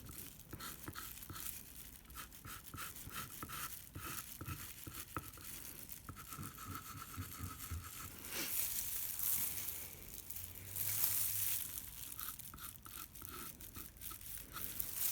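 Chalk scratches across a chalkboard with light pressure as letters are filled in, producing quiet, rapid, dry scraping strokes in uneven bursts, close up, with no talking.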